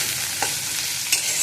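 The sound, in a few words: potatoes frying and being stirred in a pan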